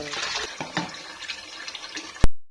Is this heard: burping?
no